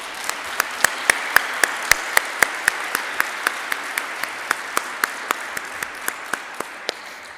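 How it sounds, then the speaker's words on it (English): An audience applauds at a university ribbon cutting ceremony: a moderate crowd claps steadily, with a few sharp claps standing out at a regular beat, gradually easing off. "Let's applaud them. Let's applaud all those people."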